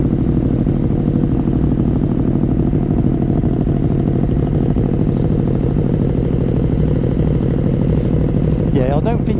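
A KTM Super Duke 1290 R motorcycle from 2018 runs loudly and steadily close by with a rough, throbbing engine note and a burst of clatter near the end, with no talking.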